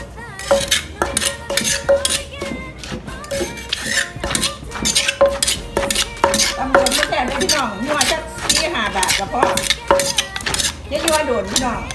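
Som tam papaya salad being pounded in a mortar, a steady run of rhythmic thuds and clinks from the pestle, close and fairly loud, with a few brief voices in the background.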